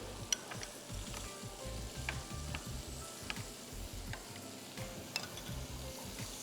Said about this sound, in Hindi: पूरी चिकन यहाँ फ्राई हो रही है